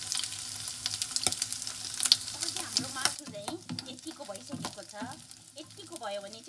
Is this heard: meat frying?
yes